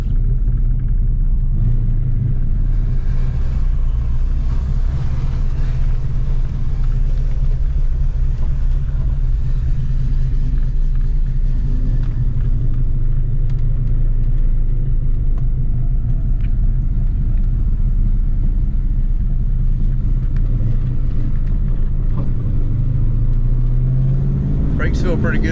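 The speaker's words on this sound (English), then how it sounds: "Cobra with the new exhaust and some mods" A 1993 Cobra's engine, modified with a new exhaust, rumbles deeply and steadily throughout, close and loud, with a rising rev near the end and people talking over it.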